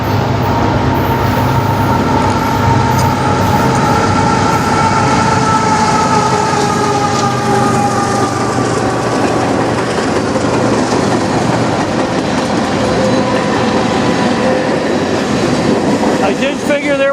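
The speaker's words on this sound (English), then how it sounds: "Got a sneaky train here coming up." A CN M382 manifest freight train rolls through Sarnia from Michigan, loud and close, with a steady heavy rumble, rail squeal and wheel clatter that continue throughout.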